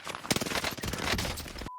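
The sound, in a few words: gunfire in Warzone video game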